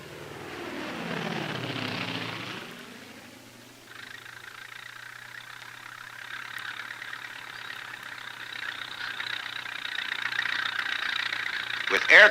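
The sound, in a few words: vintage air tanker aircraft flying over a wildfire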